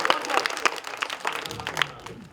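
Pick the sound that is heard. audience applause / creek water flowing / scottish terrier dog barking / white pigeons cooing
audience applause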